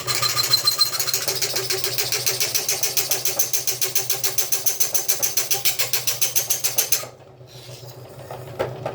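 A cleaned-up Keller F256B deluxe die filer runs while filing notches with a fairly mild file, making a fast, even train of loud reciprocating rasps and clacks that stop abruptly near the end, leaving a faint hum.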